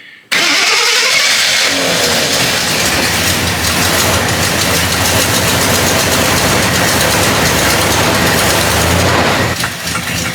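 A 52-year-old vintage Jeep Wagoneer with a carburetor fires up on a hot day and settles into a loud, steady, rough idle that carries on unbroken for nearly ten seconds before easing slightly at the end.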